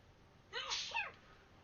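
A single sneeze with a quick two-part burst, fairly close but soft, rising out of a quiet room.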